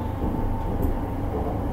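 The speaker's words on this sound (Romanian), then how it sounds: "Călătoria se face cu un tren West Midland Railway electric clasă" A West Midlands Railway class 730 electric train runs on the Birmingham line between Duddeston and Aston, giving a steady, close, even rumble with no pauses.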